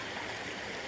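A river stream, the Kuchuk-Karasu in Crimea, flows steadily in a continuous close rush of water with no pauses, and no voices are heard.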